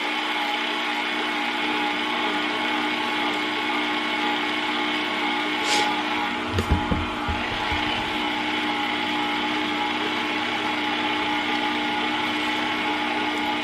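Electric mixer blending pound cake batter, a steady close whir with a steady motor hum running throughout, and a brief clatter near the middle.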